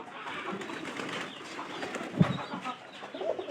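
Pigeons and their young chicks in a loft give soft, low cooing and murmuring over a steady background hum, faint and close, with one slightly louder call partway through.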